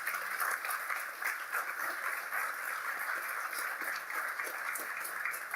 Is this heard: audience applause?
yes